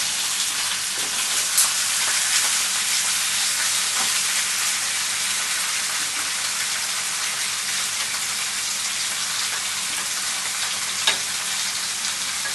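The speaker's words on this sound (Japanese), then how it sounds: "半分炒めて半分また後で炒めます" Ingredients for a curry soup are stir-fried in a pan, a steady, close sizzle with scattered clicks from stirring. The sound is continuous for the whole stretch and no one talks.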